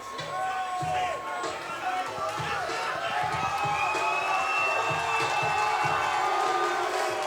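The crowd at a regional MMA fight event roars and murmurs in a continuous wash of noise, with a commentator talking over the top throughout.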